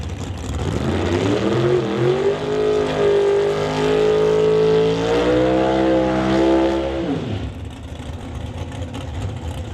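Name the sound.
1968 Camaro drag racing car engine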